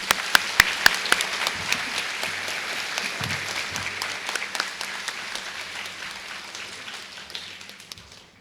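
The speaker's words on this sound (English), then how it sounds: "please give applause for our families in attendance today" Applause for families at a high school graduation ceremony, opening with a few sharp close claps and then settling into broad crowd clapping that gradually fades away.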